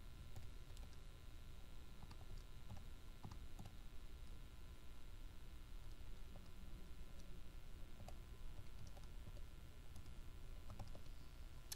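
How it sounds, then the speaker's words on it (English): Keys are tapped on a calculator in a quiet room, a faint, irregular series of small clicks spread evenly over low background hiss. "just type that whole mess in your calculator"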